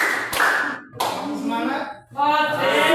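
A classroom of children clapping in unison, two sharp bursts of claps close together, with voices briefly mixed in.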